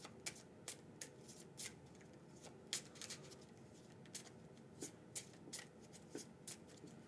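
Playing cards being shuffled, a series of crisp riffling bursts repeating at an uneven pace, close and fairly quiet.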